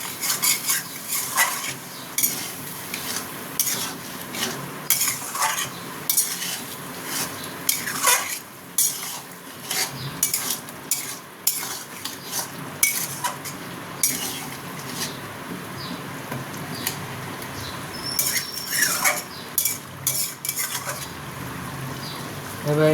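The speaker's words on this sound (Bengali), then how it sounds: "এবার এটাকে আমি ঢাকা দিয়ে দিয়ে কষবো।" Masala for a prawn and taro (chingri kachu) dish is stir-fried in a pan, with continuous sizzling, scraping and clinking of a spatula against metal in an irregular rhythm, close and fairly loud, with no talk.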